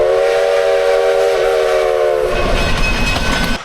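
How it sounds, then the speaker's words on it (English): A passing train sounds a loud, sustained horn blast, then its wheels and cars rumble and clatter close by as the horn fades. "Is that the train?"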